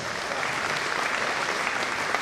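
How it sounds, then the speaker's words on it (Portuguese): An audience claps steadily and warmly, a dense, even round of applause with no voices over it. "Estou falando do Dr. Anthony Wong, recebendo uma salva de palmas"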